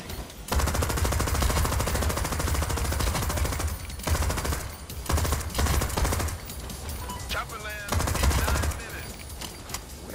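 Heavy automatic gunfire from a big gun in the heist video game Crime Boss Rockay City, loud sustained bursts of rapid shots with brief pauses between volleys, over a thumping low rumble.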